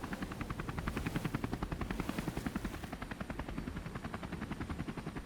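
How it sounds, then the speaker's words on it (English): A CH-149 Cormorant search and rescue helicopter flying with the 103 Search and Rescue Squadron, its rotor beating in a steady rapid chop, loud and close, alone and continuous throughout. "The 103 Search and Rescue Squadron flying the CH-149 Cormorant responded"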